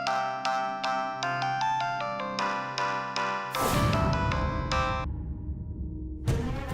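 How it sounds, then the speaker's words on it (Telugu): A mobile phone plays a melodic ringtone in a Telugu TV serial scene, bright repeating tones sounding loud and clear on their own, then giving way to a dense burst of sound. "Madam, phone."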